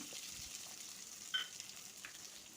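Cinnamon, cardamom, bay leaf and cut shallots frying in a pan, a faint low sizzle with a couple of soft clinks of stirring, quiet and close.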